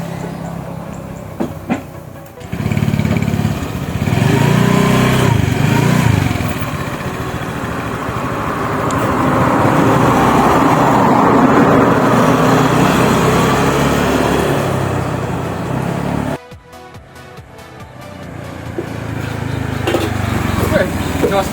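A Honda Vario scooter engine on a test ride after a sputtering and starter fault repair, running steadily and swelling as it pulls away, close and fairly loud, with wind noise and brief talk at the start.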